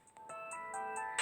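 A short, bright electronic jingle of rising and falling beeping notes, like a carnival tune, sounds on its own and fairly faint, heard within a radio broadcast.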